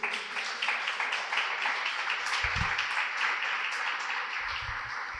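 A church congregation applauds together, a broad wash of clapping that stays steady for a few seconds before easing slightly, with a faint voice underneath.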